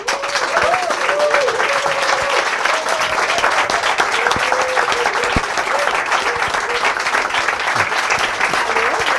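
Sustained, loud applause from a talk-show audience in Cologne welcoming guest Claudia Stern, a steady dense clapping that holds evenly throughout with no pause.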